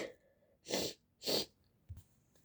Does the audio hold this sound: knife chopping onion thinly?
no